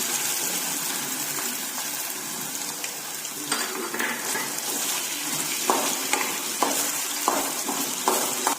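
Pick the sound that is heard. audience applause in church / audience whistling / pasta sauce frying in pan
pasta sauce frying in pan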